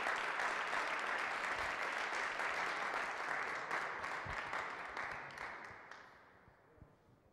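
Applause for footballer Radamel Falcao at his farewell press conference, a steady wash of clapping from the room that gradually thins and fades out, with a few scattered late claps at the end.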